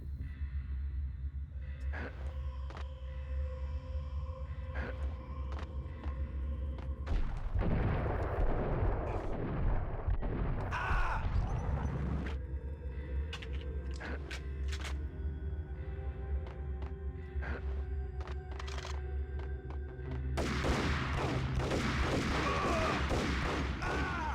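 Pump shotgun blasts and other gunfire in the action game Max Payne, with loud, heavy booming bursts in clusters amid background game music and effects.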